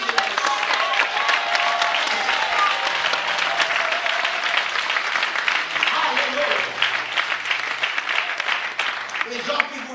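A church congregation applauding and cheering during a sermon, dense sustained clapping from a large crowd with shouts and voices mixed throughout, loud and continuous.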